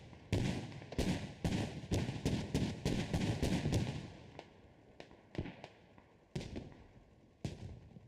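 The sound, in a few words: BTR vehicle firing shots in Squad video game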